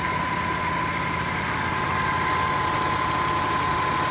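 A 2001 Audi A6 with a 2.7L twin-turbo engine idles steadily after service for a major overheating issue, giving a continuous even hum with a constant whine, close and loud throughout, with no voices.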